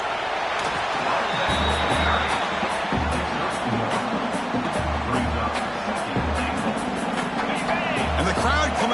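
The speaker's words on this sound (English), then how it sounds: "the crowd coming to life here, trying to help this defense down in the red zone" A football stadium crowd at an LU versus ECU game roars in a dense, steady wash of noise that continues throughout, with a commentator talking over it.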